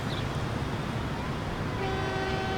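A commuter train passing in Transport Fever, a low rumbling rail roll with a steady tonal horn-like hum rising toward the end, moderately loud and unaccompanied by talk.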